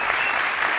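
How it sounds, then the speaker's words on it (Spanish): Loud, sustained crowd applause for Cristina Medina at the end of an interview event, an even roar of many hands clapping with no break. "Fuerte el aplauso."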